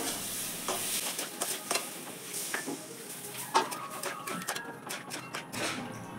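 Water poured into a pan of sizzling spice masala for aloo gobi paneer, followed by bubbling sizzle and repeated spoon scrapes and taps against the pan, close and fairly quiet.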